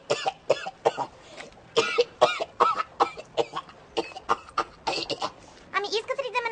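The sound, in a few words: delicate cough to attract attention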